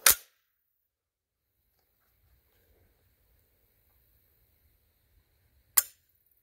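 A Black Aces Tactical bullpup shotgun trigger is pulled, giving two sharp, crisp mechanical clicks about six seconds apart, each loud and brief, with near silence and faint low rumble in between.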